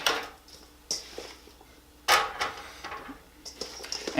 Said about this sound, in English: And they're going to go right on to my sheet pan.